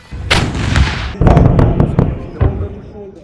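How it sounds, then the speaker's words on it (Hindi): Indian Army artillery guns fire at the Devlali field firing range in Nashik, giving a series of loud, booming blasts with rolling echoes in quick succession, up close and without talk. "नासिक जिले का ये Deolali artillery fire power demonstration का केंद्र है"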